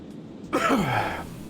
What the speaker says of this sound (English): Cough because our lungs don't work.